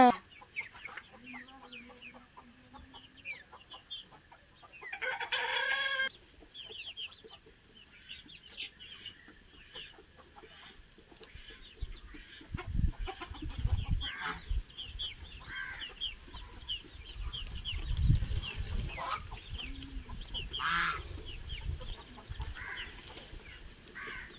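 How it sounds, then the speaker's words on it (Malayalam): Chickens cluck and call at intervals around a farmyard, with rustling, brief bursts of noise and some faint background sounds. "എന്തിനാ ഓടിക്കണ നീ കോഴിനെ?"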